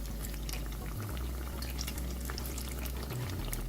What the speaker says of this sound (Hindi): ये देखें इस तरह हम आलू के कतले को इसको फ्राई करेंगे